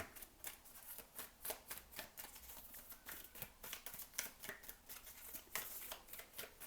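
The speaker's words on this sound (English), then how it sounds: "let's see what the Moonology Oracle deck has to say" A Moonology Oracle card deck being shuffled, with a rapid, steady run of soft papery riffling bursts, close and fairly quiet, with no talking.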